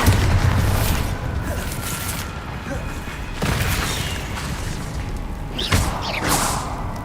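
A Bombarda blasting spell explodes in the Hogwarts Legacy video game, loud booming bursts over a dense, rumbling battle mix, with sharp impacts at about three and a half and near six seconds amid constant action noise.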